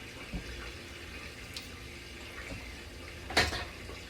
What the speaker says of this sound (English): let me put a little water in the sink